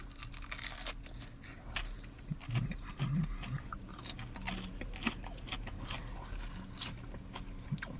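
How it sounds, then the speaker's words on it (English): Deep-fried breaded jalapeño poppers stuffed with creamy, spicy cheese are bitten and chewed close up, a series of crisp crunches followed by steady, moist chewing. "Crunchy, as you can hear. Crunchy breading, creamy, gooey, cheesy inside with a lot of spice to it."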